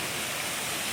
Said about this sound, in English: stream crossing